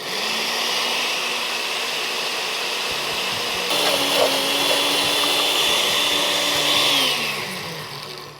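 A blender whirs steadily through a creamy salad dressing with lemon juice, loud and close, its motor pitch shifting partway through as the blend loosens and then winding down at the end.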